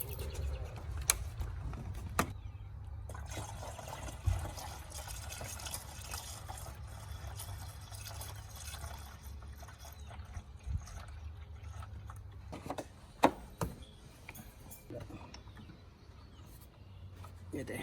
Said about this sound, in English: So we need to put coolant.